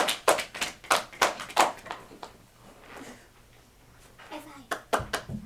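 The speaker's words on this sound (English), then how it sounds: "Give yourselves a round of applause for keeping Petunia safe." Scattered hand clapping from a small group of children at a child-safety talk, with irregular bursts early on, a lull, then a few more quick claps near the end, mixed with faint voices.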